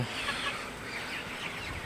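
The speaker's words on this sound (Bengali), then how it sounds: "তো আমার 55টা ব্রয়লার মুরগি রেখে দিয়েছিলাম বড় করার জন্য।" Broiler chickens on a small poultry farm, a brief murmur of soft clucking and low chatter from the flock, steady and fairly close, with no talk.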